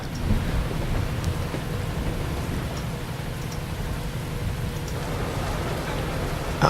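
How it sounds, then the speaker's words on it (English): Steady rain hisses with a low, continuous rumble of thunder underneath, heavy and unbroken for the whole stretch. "The thunderstorms."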